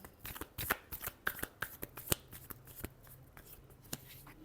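Tarot cards being shuffled by hand: a quick run of crisp, papery riffles and slaps in a steady rhythm, close and fairly quiet, with no voices.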